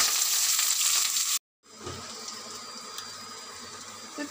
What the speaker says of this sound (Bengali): তো পেঁয়াজটা ভাজা হচ্ছে